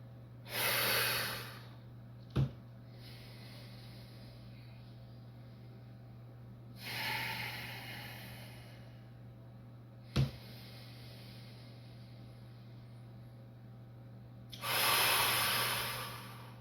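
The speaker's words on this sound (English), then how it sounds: "This kind of breathing with your mouth can also help too," Three forceful mouth exhalations during a bar hang exercise for back pain, each a broad breathy rush lasting about a second, spaced several seconds apart, with two short sharp clicks between them over a steady low hum.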